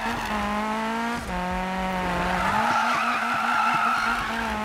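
A Toyota AE86 drifting in the video game Need for Speed 2015, a sustained engine drone with tires squealing and skidding continuously, close and loud.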